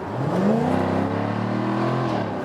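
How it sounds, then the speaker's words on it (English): A Jaguar F-Type V8 convertible, a 2020 P450 R-Dynamic, accelerates hard in dynamic mode from about 50 to 80 km/h, its engine note rising in a steady, loud, close-up rev with no talking. "I'll put in the dynamic mode that we can see some of the acceleration then here from 50 kilometers an hour to about 80"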